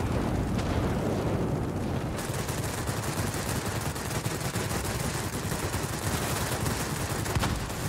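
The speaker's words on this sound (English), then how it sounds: "The enemy is launching rocket strikes on our complex" Rocket strike explosions in the aerial combat game World of Warplanes form a dense, continuous roar of blasts and rapid gunfire crackle, loud and unbroken throughout.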